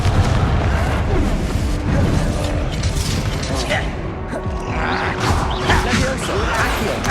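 The Confringo fire spell bursts in the Hogwarts Legacy video game, a loud, dense boom and crackle amid constant rumbling combat effects, with voices heard over the noise.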